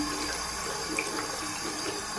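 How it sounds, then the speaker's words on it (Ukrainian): A dirty cleaning cloth from a window-cleaning robot is rinsed in water, giving a steady watery wash and splash close by with no talk. "Дивіться, отак от я потім мию тряпочку."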